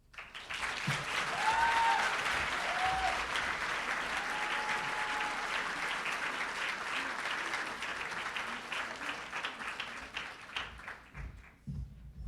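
Audience applause at a university award ceremony honoring a student, sustained loud clapping from a crowd that thins and fades toward the end.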